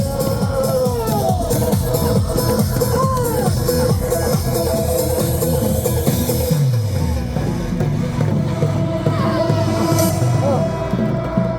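A crowd at a political rally in Korea shouting and cheering together, dense and loud throughout, with an amplified voice leading the crowd and a horn-like tone partway through.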